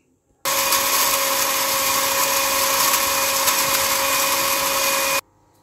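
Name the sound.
electric grinder grinding chaat masala spices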